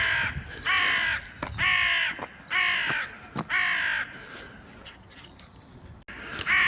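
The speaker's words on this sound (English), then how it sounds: "tower with a crow telling us all about it. Noisy sod." A crow perched on a tower at a historic salt works caws loudly and repeatedly in a steady series of harsh calls, close and clear over faint outdoor background noise.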